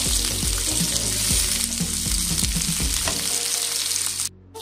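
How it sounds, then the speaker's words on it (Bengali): Potatoes frying in hot oil in a pan, a loud steady sizzle with rhythmic spatula scrapes and taps before it cuts off near the end. "তো এর মধ্যে আমি এবার আলুগুলোকে দিয়ে দেবো। তো আলুগুলোকে আমি প্রথমে একটু ভেজে নেব।"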